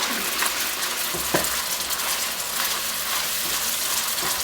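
Buffalo wing sauce with Heinz tomato ketchup being stirred in a pan, a steady close sizzle with a few soft scrapes of the utensil against the pan.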